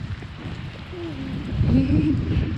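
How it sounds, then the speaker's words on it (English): Heavy rain drums on a camper van, a steady low, muffled roar that swells slightly toward the end, with a faint voice briefly under it. "And now it's, maximum rain coming down."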